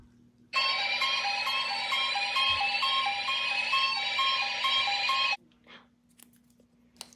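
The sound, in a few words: St. Lucia Emergency Alert System alarm tone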